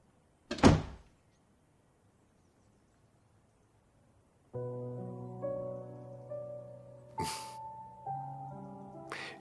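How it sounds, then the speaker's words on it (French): A single sharp door thud from a door being shut in a home, then several seconds of silence before soft, sustained music rises with a couple of brief bumps. "ferme la porte"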